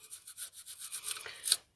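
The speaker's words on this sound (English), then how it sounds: "We have a toothbrush, just specially for the job." A toothbrush scrubs seaweed growth off a sailboat in a rapid series of close, raspy strokes that speed up before a sharper final scrape.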